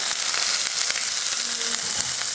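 Finely chopped big onion drops into hot oil already crackling with mustard seeds, urad dal and fennel for potato masala, sending up a loud, continuous frying hiss with faint pops throughout.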